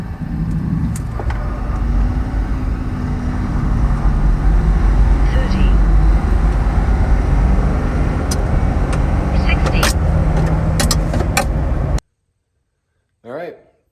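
2023 Ford F-250 XL pickup truck accelerating from 0 to 60 in two-wheel drive, a steady loud engine roar with rising drone heard from inside the cab, ending abruptly, followed by a brief voice.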